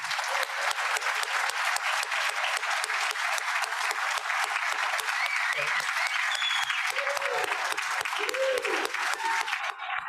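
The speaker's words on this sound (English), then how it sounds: "can we have the entire YWLA table stand up for a round of applause?" A banquet audience gives a steady, even round of applause that fills the room for about ten seconds, with faint voices talking underneath the dense clapping.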